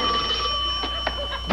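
A telephone rings with a steady electronic bell tone under light background noise and a few faint knocks, close and moderately loud, with no talk.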